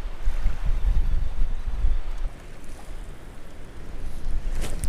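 Wind buffeting a fishing boat on a wind-blown shoreline during early spring bass fishing, a continuous loud low rumble of gusts across the microphone with slight easing midway and no talk.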